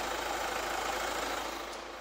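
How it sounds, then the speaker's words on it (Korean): Hyundai Santa Fe DM SUV with its 2.0 diesel engine idling under a closed hood, a steady, muffled hum with a faint underlying clatter, even and unbroken throughout. "이 정도의 엔진 소음을 만나보실 수가 있습니다"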